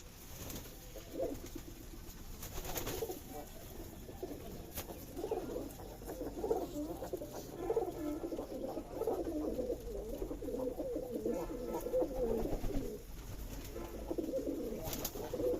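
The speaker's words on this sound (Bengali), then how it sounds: "আস্তে আস্তে আমার সকল কবুতর আসছে" Racing pigeons at a loft coo in soft, repeated rolling calls, close and continuous, with light rustling and background noise, no talk.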